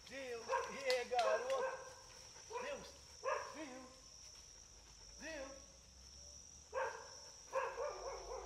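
A tracking dog barks and yips in repeated short bursts outdoors near a marshy lagoon during scent-tracking training, with steady insect chirping throughout and someone talking at times.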